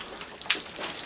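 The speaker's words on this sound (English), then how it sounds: "Feel the water coming in." Water trickling and dripping into a derelict building, with soft patters and splashes scattered over a steady wet hiss, fairly close and moderately quiet.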